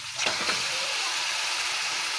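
Meat for biryani drops into hot oil, setting off a sudden hissing sizzle that swells at once and then holds as a loud, steady spitting hiss.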